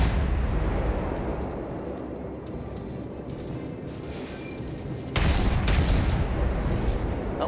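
Warship guns firing at the Myoko in World of Warships, a long low rumbling roar that swells into a louder burst about two-thirds through, dense and continuous with no speech.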